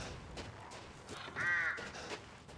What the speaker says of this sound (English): Fucking crows.